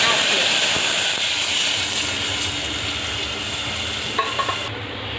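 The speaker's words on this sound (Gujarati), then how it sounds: "જો આ પાણી ઉકળી ગયું છે" Water for a gram-flour buttermilk curry boils in a pot with a steady, loud, steamy hiss and rumble that eases off near the end, where there are a few light knocks.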